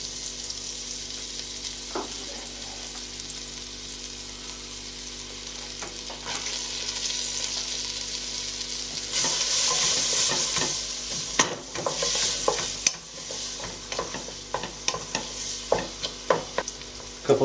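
Finely chopped onion frying in butter and olive oil for pilau rice: a continuous close sizzle, then louder bursts and scraping stirs with sharp clatters of the spoon against the pan.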